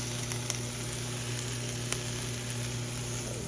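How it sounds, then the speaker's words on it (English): Two cut-up hot dogs fry in a pan for breakfast, giving a steady close sizzle with scattered small pops and no talking. "These are our hot dogs that are frying."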